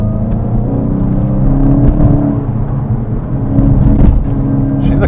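Engine of a 2024 VW Golf GTI with a manual gearbox pulling under acceleration in low gears, a steady loud drone with rising and falling revs close by, heard from inside the cabin with no talking.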